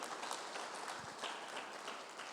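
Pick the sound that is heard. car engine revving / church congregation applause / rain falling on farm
church congregation applause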